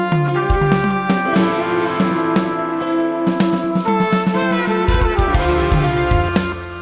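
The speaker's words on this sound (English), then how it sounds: "there's a nice filter which kind of opens up from the high end when you listen to the drums here" Drum pattern in a dense music production mix alongside trumpet, with a filter automation gradually opening up the high end; busy, steady percussion hits throughout, loud and continuous with no talking.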